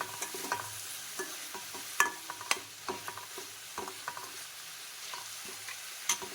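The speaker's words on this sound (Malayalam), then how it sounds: "ഇതൊന്ന് വഴലട്ടെ." Vegetables for noodles sauté in a pan, a continuous quiet sizzle broken by repeated scraping stirs and light clicks of a spatula, with no talking.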